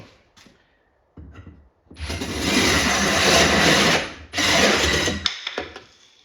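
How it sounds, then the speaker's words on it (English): A power drill bores the last stretch through a wooden arcade control panel, two long loud whirring bursts separated by a short pause, with brief knocks and handling noise before and after. "So finish drilling it."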